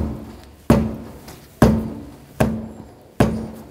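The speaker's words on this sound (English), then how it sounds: "Just give it a tap with a hammer." A hammer strikes the tire of a stuck rear wheel on a 2009-2013 BMW 328i to free it: four solid, evenly spaced thuds, each ringing briefly before fading, with no talk.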